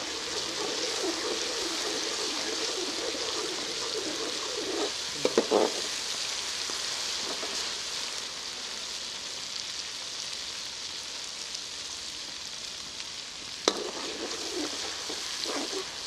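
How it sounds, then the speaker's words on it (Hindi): Ginger garlic paste frying with golden onions in a karahi, a steady close sizzle throughout with a couple of brief stirring scrapes. "अदरक लहसुन का पेस्ट है मेरे पास, ये शामिल कर लेते हैं। इसे थोड़ा सा भून लेंगे।"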